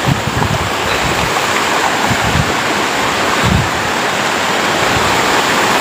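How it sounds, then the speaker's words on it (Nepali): Heavy rain sends water rushing across a road in North Bengal, a loud, continuous broadband roar with no breaks, close to the microphone and with no voices over it. "पानी कुदेको रोडैभरि कुदिरहेको छ यहाँनिर पनि"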